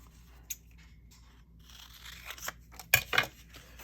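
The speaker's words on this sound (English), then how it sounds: "And we'll go and cut this off." Scissors snip through a junk mail envelope for a junk journal cover, with a few sharp close cuts and crisp paper crunches, the loudest near the end, with no talk.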